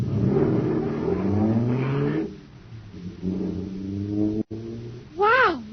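A jet car engine revs as a radio sound effect, a droning whine that rises in long sweeps, pauses, then roars again before a final warbling, siren-like climb.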